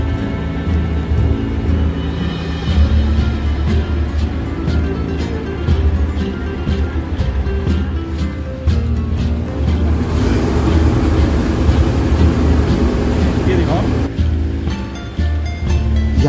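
A ferry steamer crossing the Yamuna River, with a constant deep engine drone under rushing water and wind noise, loud and unbroken throughout.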